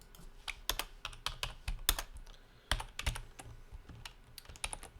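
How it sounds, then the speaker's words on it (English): Fingers typing on a computer keyboard, a close, quiet run of irregular key clicks with brief pauses between bursts; no speech. "You can obviously as well type in the parameters here."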